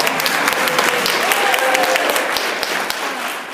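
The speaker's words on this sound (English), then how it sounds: "Let's have a round of applause." A conference audience of managers applauds in a dense, loud wash of clapping that fills the whole stretch, with a faint voice underneath.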